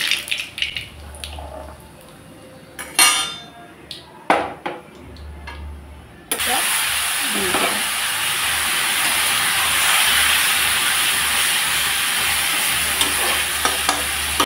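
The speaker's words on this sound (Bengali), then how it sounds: "তেলের উপরে দিয়ে দিলাম কালো জিরা ফোড়ন" Nigella seeds tempering in hot oil for a fish dish, first a few scattered crackles and clinks, then a loud sustained sizzle that swells and holds steady up close.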